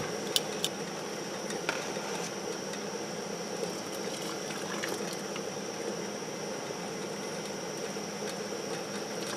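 A big pot full of canning jars boils steadily, a faint continuous bubbling hiss with a few small clicks and taps, quiet and close.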